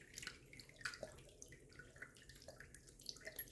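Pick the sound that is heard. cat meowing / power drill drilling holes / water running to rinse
water running to rinse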